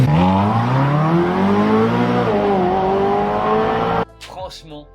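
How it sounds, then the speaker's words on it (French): A 2008 Ferrari California engine revs loud and close with a rising, sustained harmonic roar for about four seconds, then cuts off abruptly into a quieter idle with faint background sounds. "Vous allez juste halluciner du bruit du moteur de la Ferrari California de"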